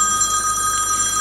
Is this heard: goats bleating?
no